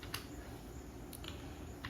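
Keys on a computer keyboard are tapped for a brief stretch, with a few soft, scattered clicks over a steady background hiss.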